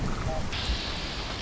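Rain falling in Fallout 4 as a steady wash of hiss, with a low thunder rumble and a brief sharp crack partway through.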